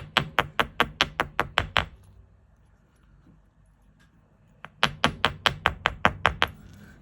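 A nylon jaw hammer strikes jewellery ear wire on a steel bench block, giving a close, sharp burst of about ten rapid even taps, a pause of near silence, then another quick run of taps.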